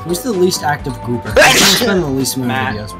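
A single sharp sneeze bursts out midway through steady conversation among several people playing Castle Crashers, loud and close, with talk continuing on both sides of it.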